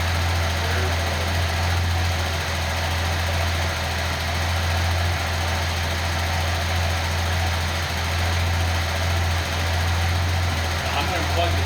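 A Nissan L28ET turbo inline-six idles steadily after a misfire repair, a constant low, even hum with slight vibration running unbroken throughout at close range.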